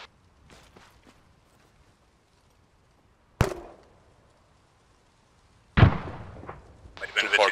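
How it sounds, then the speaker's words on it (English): A grenade thrown in a multiplayer military video game, a sharp loud blast and then a second heavier explosion with rumbling debris, separated by quiet stretches with faint shuffling. "Shoot a nade there."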